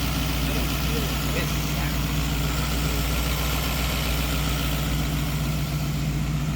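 A $100,000 Corvette engine idling in a shop, a steady low rumbling drone that holds unchanged throughout, close and fairly loud, with no talk over it.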